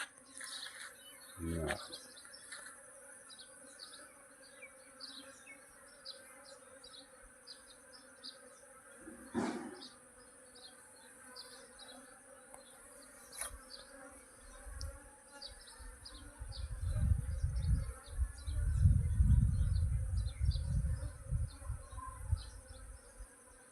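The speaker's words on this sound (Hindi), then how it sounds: "जब जगह छोड़ती है दोस्तों मधुमक्खी तो एकदम से कैसे उड़ती है, बहुत जोर से उड़ती है" A swarm of honeybees buzzes in a high continuous hum outdoors, with a few sharp knocks early on and a louder, rumbling surge of wingbeats building near the end as the swarm lifts off.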